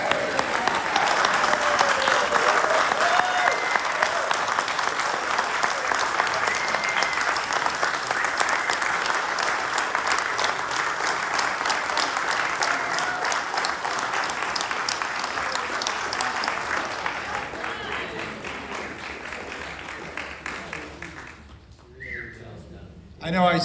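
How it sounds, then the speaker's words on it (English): Steady, sustained audience applause at a Rotary speech competition honoring the student speakers, filling the room for over twenty seconds before tapering off near the end. "Let's give them a round of applause."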